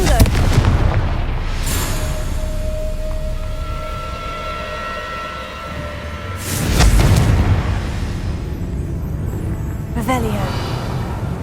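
Fire spell blasts in a Hogwarts Legacy game, two loud booming explosions with rumbling low-end tails over background game ambience, followed by a sharper burst near the end, with a voice speaking in between.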